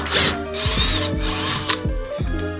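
A power drill drives screws to fix a power supply mount to a desk, with several close, loud bursts of whirring motor that rise and cut off in an uneven rhythm and no talking over them.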